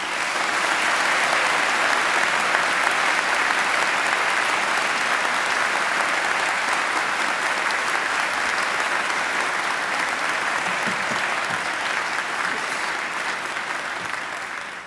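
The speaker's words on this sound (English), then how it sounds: "I would like to propose a big round of applause for what we have achieved" A large graduation ceremony audience at Macquarie breaks into long, sustained applause. The dense, even clapping holds steady for about fifteen seconds and only begins to fade slightly at the very end.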